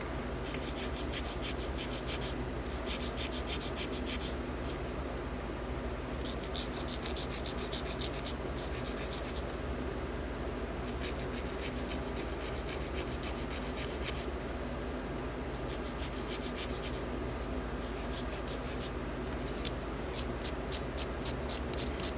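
A nail being filed by hand at close range, a steady scraping rub running continuously with short gaps, ending in a run of quick rhythmic strokes.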